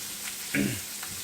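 Butter and onions frying in a pan for deer steaks, a steady close sizzle with a brief louder burst as food shifts in the fat.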